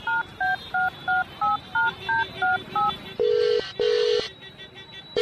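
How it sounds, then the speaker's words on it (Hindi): Nine quick keypad beeps as a phone number is dialed, followed by two longer ringing tones on the line. "उस नंबर को अपने फोन से कॉल किया"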